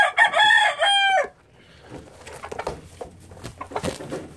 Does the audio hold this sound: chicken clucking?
yes